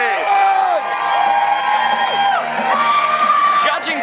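A wrestling arena crowd at an HWA event cheers, whoops and yells loudly and continuously for Madman WK's entrance, a dense roar of many voices with shrill shouts rising above it.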